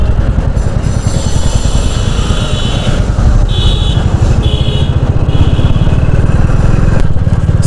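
A Royal Enfield Meteor 350 motorcycle rides through the city, its single-cylinder engine thumping in a loud, close, steady rhythm, with passing traffic and horn-like tones in the background.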